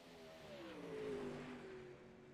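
A 360 sprint car engine out on the racetrack, a distant rising and falling drone that swells and fades over a couple of seconds.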